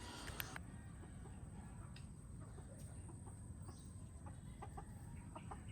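Chickens cluck and murmur in a coop at a tiny house in the Philippines, a few near sharp calls early, then softer scattered clucks over a low, steady background.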